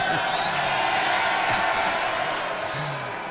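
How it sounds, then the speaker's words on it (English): Broad crowd cheering at an Ulster v Connacht rugby match, a steady wash of many voices filling the stadium, fairly loud and sustained for a few seconds and easing slightly at the end. "Big cheer for Rory McIlroy"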